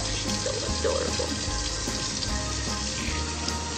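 Tap water running steadily into a sink or tub while a Boxer puppy is bathed at home, a continuous close splashing rush that fills the whole stretch with no speech.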